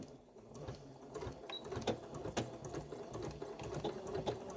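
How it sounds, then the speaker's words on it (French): A sewing machine stitches a fabric furoshiki gift wrap, sewing a seam 1 cm from the edge with a backstitch at the start. It makes a steady, fairly quiet mechanical whir with light rhythmic ticking throughout, and no one speaks. "Je passe et je vais coudre à 1 cm du bord en faisant un point d'arrêt au début"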